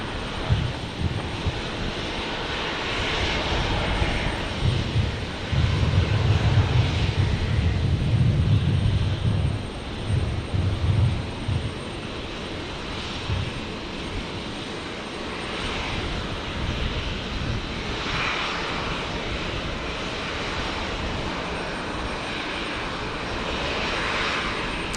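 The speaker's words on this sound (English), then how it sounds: "Virgin 988 here, just beginning its roll on 19 left" A Virgin Boeing 737 jet starts its takeoff roll on runway 19 left at Brisbane Airport. The engines give a loud, broad, steady roar that swells in the first seconds, then holds as a continuous rushing drone.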